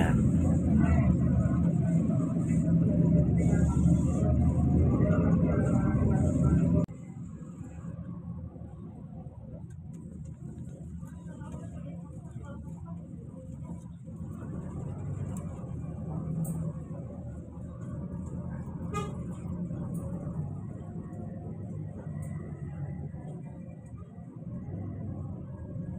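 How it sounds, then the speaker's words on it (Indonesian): A Suroboyo Bus leaving Bungurasih terminal, its steady engine rumble loud and close for the first seven seconds, then dropping to a softer continuous drone of the moving bus with faint rattles. "Busnya ini kemudian keluar dari area Terminal Bungurasi"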